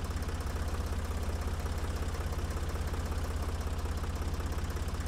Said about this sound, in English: Turn my tractor around.